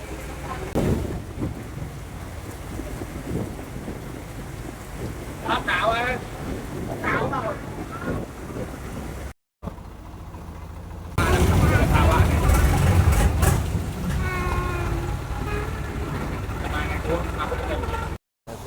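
Steady rain pours down on a tourist boat at a Bangkok floating market, a dense wash of drops drumming on the craft, growing heavier partway through, with voices talking over it and brief dropouts.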